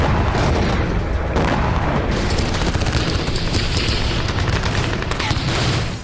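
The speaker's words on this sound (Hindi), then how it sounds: "राफा बॉर्डर इन दिनों धमाकों से गूंज उठा है।" Explosions and bursts of gunfire at the Rafah border crowd together in a dense, loud barrage of booms and rapid cracks, continuous and harsh with little pause.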